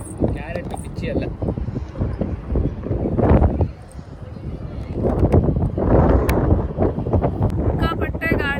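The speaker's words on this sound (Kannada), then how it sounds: "ಸಿಕ್ಕಾಪಟ್ಟೆ ಗಾಳಿ ಇದೆ." Strong harbourside wind at the Sydney Opera House gusts across the microphone in loud, uneven rushes that swell and ease, while people talk through it.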